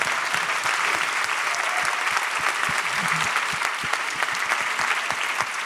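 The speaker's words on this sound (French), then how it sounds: "Est-ce qu'on peut l'applaudir bien fort s'il vous plaît?" An audience at a talk applauding loudly, with dense, continuous clapping that holds steady from start to finish.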